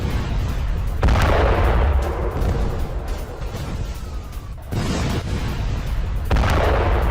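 A ballistic missile strikes a high-rise building in Bat Yam, Tel Aviv, producing a series of heavy, loud booms with rumbling blasts recurring several times over a dense, noisy background.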